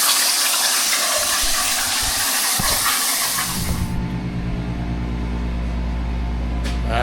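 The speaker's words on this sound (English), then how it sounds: "We're waiting for the compressor." An air compressor in a car-restoration shop roars with a broad hiss, then settles into a steady, loud, low motor hum that runs to the end.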